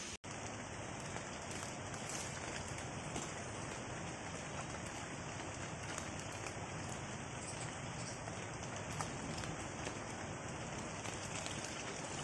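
Steady, dense rain pours down in the Konkan countryside during traditional crab trapping, drumming evenly on water and ground. The wash is loud, close and unbroken throughout, with no voices.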